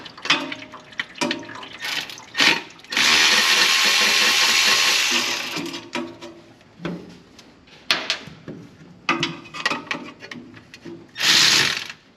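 A ratchet wrench at work on a 2006 Chevy Express 2500 van, its clicking bursts loud and close, mixed with clanking tool and mechanical noises and a long harsh whirring stretch partway through.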